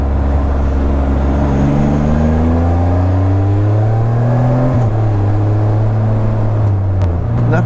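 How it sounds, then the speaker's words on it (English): The exhaust of a 2014 BMW RT-S motorcycle rumbles loud and close, its engine note rising steadily as it accelerates, dipping briefly at a shift, then pulling on again. "Oh yeah, that exhaust sounds real good."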